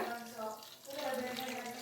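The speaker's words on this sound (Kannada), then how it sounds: "ಹಾಗೆ ನೀರು ಹಾಕ್ಬಿಡೋಣ ಈಗ" Water poured into a pan of ground masala paste with mustard seeds while cooking a black-eyed pea (alasande) bassaru: a steady, close, continuous pouring rush lasting the whole moment, with a voice faintly in the background.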